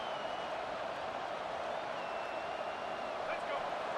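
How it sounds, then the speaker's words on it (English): Stadium crowd in the College Football 25 video game, heard as a steady, faint, unbroken roar of many voices at a distance, with no distinct cheers or speech standing out. "This crowd bringing the energy and noise early"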